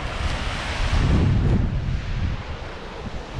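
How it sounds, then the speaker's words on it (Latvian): Sea waves wash and break against stones along the shore at the Liepāja Northern Forts, a continuous rushing surf swelling in the middle, with wind buffeting the microphone. "И там даже волны образовывают."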